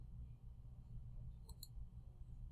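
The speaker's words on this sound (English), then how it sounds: "So we're going to click in cell B5," Two quick mouse clicks, close but faint, over a low steady hum in a quiet room while working in Excel.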